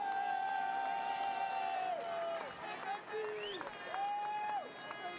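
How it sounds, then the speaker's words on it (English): At the 2012 WTCC touring car race in Hungary, a crowd chants and cheers for a driver, a sustained wash of voices with rising and falling chant tones rolling on at a fairly constant level. "You can hear the crowd chanting for Norby."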